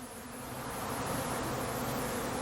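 Honey bees swarming around a Flow Hive during a honey harvest, a steady dense buzzing that fills the whole stretch, close and constant with a slight rise in loudness, no talking.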